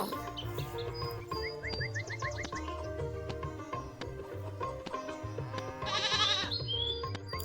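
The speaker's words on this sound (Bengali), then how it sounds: "ছাগলের বাচ্চাটি তোমাদের মতোই দুষ্টু মিনাকে খুব বিরক্ত করে" A young goat bleats several times over a busy musical backing with bright, chirpy tones.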